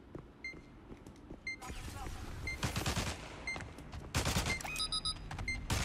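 Rapid gunfire bursts in the shooter game Spectre Divide while firing through a wall, heavy crackling volleys among in-game beeps and tones, with a player talking over the action.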